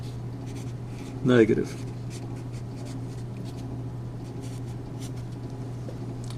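Faint scratching of a marker writing on a board during a multivariable calculus lecture, running softly under a man's brief speech and a steady low hum.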